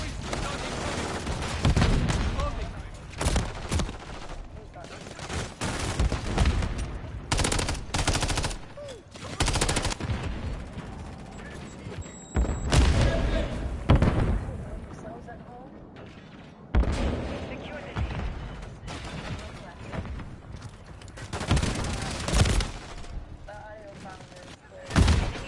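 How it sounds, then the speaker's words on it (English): Semtex grenade blasts and rapid gunfire in the video game Modern Warfare 3, with repeated loud bursts and booms throughout alongside frequent talking. "Semtex incoming!"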